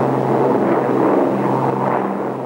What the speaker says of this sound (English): the only sound that reached the crew members was the reassuring drone of the Merlin engines